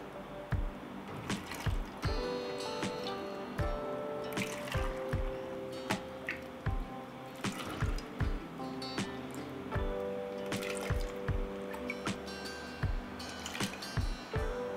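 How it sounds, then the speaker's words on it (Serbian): Boiling-hot sugar water is poured into glass jars, giving soft liquid splashes and filling gurgles punctuated by repeated light glassy taps and clinks, close and fairly quiet. "Voda sa šećerom je proključala i tako vrelo ću sipati u tegle."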